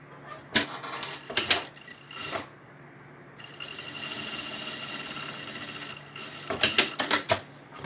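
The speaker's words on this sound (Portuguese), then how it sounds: "agora eu vou passar uma costura aqui pra fechar o meu bolso" Sewing machine stitching a seam to close a fabric pocket on a vaccination card cover. Short clattering bursts give way to a few seconds of steady running, then more quick bursts, all close and with no voices.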